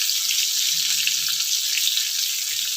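Water poured into a pan of stuffed brinjal curry, a steady hissing wash of liquid that stays even and close for the whole stretch, with no one talking.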